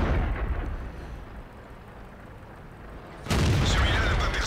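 A tank cannon fires in World of Tanks with a loud, sudden boom near the end, following a rumbling engine and ambient game noise from a French AMX 50 100 heavy tank.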